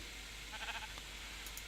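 A sheep bleating in the video game Minecraft, a single short wavering bleat at moderate level over a steady background hiss.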